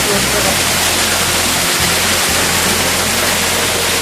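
Ramiyanahalli Falls pours and roars continuously in a dense, steady rush, loud and close, with no pauses.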